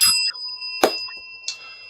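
A small bell rings with a bright, sustained metallic tone, struck again partway through and left to ring out, close and clear with no talk over it.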